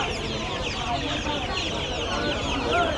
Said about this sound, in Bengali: একটা ছোট অস্ট্রেলিয়া মুরগির বাচ্চা দেখছেন